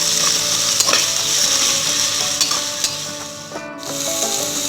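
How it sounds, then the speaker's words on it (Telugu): Spices sizzle loudly in hot oil as a tempering for boti curry, with a spoon scraping and stirring in steady strokes close by, no voices. "ఇది కూడా చక్కగా వేగనివ్వాలి"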